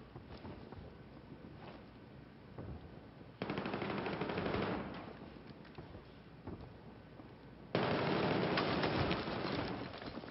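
Automatic gunfire in a 5v5 Domination first-person shooter match on the Dawnbreaker map, dense sustained bursts of rapid shots over constant rumbling, rising loudly in two long stretches.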